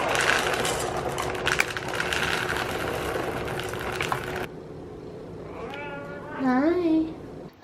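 A house cat meows at feeding time: a rising, wavering meow near the end, after a stretch of loud mechanical droning that suddenly cuts out.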